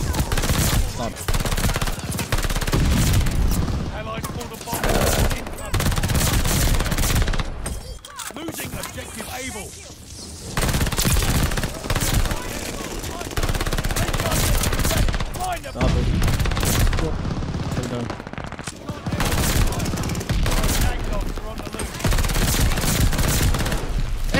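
PPSh submachine gun fire in Call of Duty: Vanguard multiplayer: long, dense bursts of rapid automatic shots with a few brief pauses, loud and close, while a player talks over the shooting.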